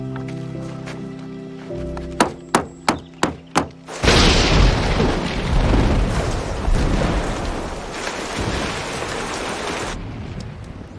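Heavy rain bursts in loudly and keeps pouring steadily, preceded by a few sharp rhythmic knocks and a deep booming rumble of thunder as the downpour begins.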